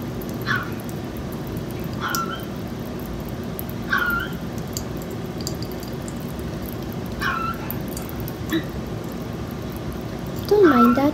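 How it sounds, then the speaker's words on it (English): A dog yips and whimpers repeatedly in short bursts over a steady background hum, somewhat distant, with a louder whine at the end. "That's just my dog."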